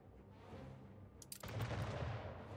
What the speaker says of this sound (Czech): Ještě jedna salva